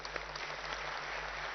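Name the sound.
audience applause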